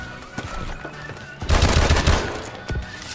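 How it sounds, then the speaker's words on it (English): Gunfire from Call of Duty: Advanced Warfare multiplayer: scattered shots, then a loud rapid burst of automatic fire lasting under a second, with a few more shots after. "I just shoot 5 bullets on you"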